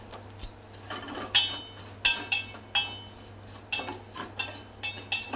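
A spoon stirs vermicelli with cashews and raisins frying in ghee in a metal pan, a repeated clinking and scraping against the pan at a steady rhythm, close and with no talk.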